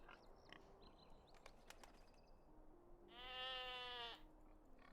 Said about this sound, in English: Just hearing a sheep baaing, you know, right there.